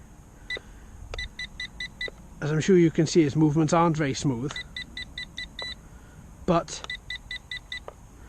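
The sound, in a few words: Jingdatoys JD-11 quadcopter drone transmitter beeping while tilting camera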